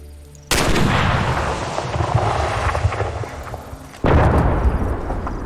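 A guided missile strike in the Arma 3 video game comes as a sudden loud explosive blast followed by a long rumbling roar, then a second sharp blast near the end. The impacts sound close and powerful.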